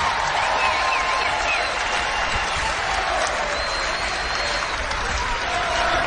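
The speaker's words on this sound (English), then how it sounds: "So Jada Williams gets a nice round of applause, too, as the fans are appreciative of the work that the freshman has put in this season." A basketball crowd at a Pac-12 women's game between Arizona and UCLA applauds a freshman player. The clapping is steady and moderately loud, a dense, even wash that lasts the whole stretch from a distance.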